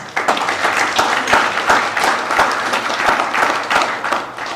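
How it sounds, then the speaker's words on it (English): A banquet audience at an American Legion event applauds, dense steady clapping from many hands filling the room, fairly loud and continuous. "Give yourselves a round of applause."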